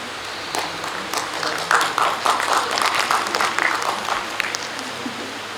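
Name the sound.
audience applause at a conference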